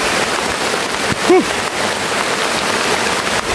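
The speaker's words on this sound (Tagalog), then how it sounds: "Yung malakas yung ulan mga idol." Heavy rain pours down outdoors as a loud, steady, broad hiss of water, close and unbroken, with a brief voice cutting in once.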